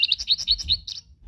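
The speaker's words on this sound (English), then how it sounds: "He can hear the sound of the bird." Bird call played from an electronic toddler sound book: a rapid series of bright, high chirps and tweets in a quick repeating rhythm, close and clear, with no talk over it.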